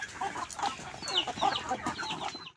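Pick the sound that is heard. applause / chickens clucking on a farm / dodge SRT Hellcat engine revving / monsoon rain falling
chickens clucking on a farm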